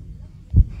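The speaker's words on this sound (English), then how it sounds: "You like hearing my heartbeat?" A human heartbeat, heard close as if with an ear to the chest, gives a soft low thump that swells near the end, with a second beat starting just after, over a quiet muffled hum.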